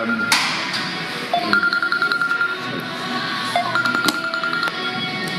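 A mobile phone rings during a live radio broadcast, with a repeating electronic ringtone melody of rising tones sounding fairly loud over someone talking.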